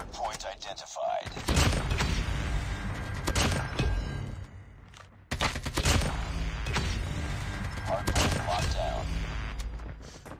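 Rapid AK rifle gunfire in a hardcore Hardpoint match of a first-person shooter, loud bursts running through most of the clip amid game effects, with a short break midway before firing resumes.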